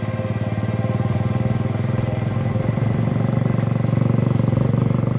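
A motorcycle engine drones loudly and steadily from up close as the bike is ridden through streets in Haiti, with a continuous rumbling throb and no speech.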